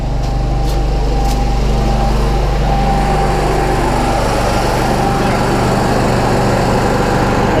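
An Onan 120-volt generator engine runs close by, a loud continuous buzzing drone that holds steady with a slight pitch change partway through, with no talk over it.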